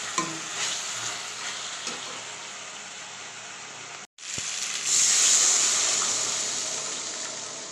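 Bhetki fish curry with potatoes sizzles in oil while being stirred with a few scraping knocks. After a brief cut, water pours into the hot pan, setting off a loud, rushing hiss that slowly fades.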